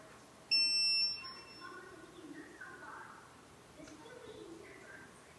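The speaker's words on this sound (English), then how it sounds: "Once the update is completed, the updater will beep and display done" A single high electronic beep from a GoControl panel updater on finishing an update, sustained for about half a second, then quiet room noise with faint distant birdsong.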